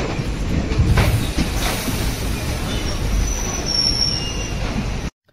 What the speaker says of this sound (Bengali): তো চলো ট্রেন।